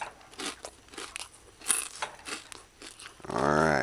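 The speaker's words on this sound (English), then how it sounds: "Alright, so you hear how crunchy this is." Someone bites into a crunchy sardine fritter, giving a string of crisp crunches and chewing sounds up close, with a brief voice-like sound at the end.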